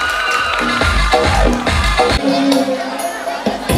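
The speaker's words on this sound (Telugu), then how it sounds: "give them a big round of applause" Cheering and shouting from a crowd of children and adults at the M.S. Reddy High School annual day celebration, with lively whoops and bursts of applause in a busy hall.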